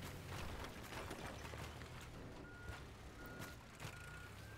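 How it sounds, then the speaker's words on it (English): A demolition machine on a site tearing down a building sounds repeated reversing warning beeps, evenly spaced over a loud, constant engine rumble and mechanical noise. "I'm glad we have the warning beeps on there"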